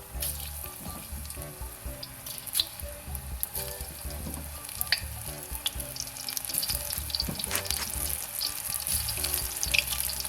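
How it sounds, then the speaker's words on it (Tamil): Battered mushrooms for mushroom 65 deep-fry in hot oil, giving a steady, dense crackling sizzle with small pops, close by and continuous, with no talking. "எண்ணெய் சூடானதுக்கப்புறமா நம்ம மிக்ஸ் பண்ணி வச்சுருக்க மஷ்ரூம்ஸை ஒன்று ஒன்றா ஃப்ரை பண்ணி எடுத்துடலாம்"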